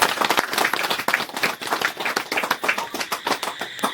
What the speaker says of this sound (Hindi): एक बार परम पिता परमेश्वर की हम जोरदार ताली बजाएंगे।